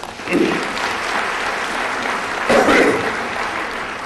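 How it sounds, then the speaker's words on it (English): Audience applause at a speaking event, a steady dense wash of clapping across the whole span that swells briefly about midway, with some faint voices mixed in. "Please give him a round of applause."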